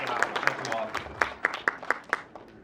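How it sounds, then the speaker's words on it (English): A small gathering at a toast for Jensen and Matthew gives a short round of applause, individual claps standing out in an uneven pattern over crowd murmur and voices. "I'd just like to give one round of applause to the sheriffs for putting on such a wonderful event."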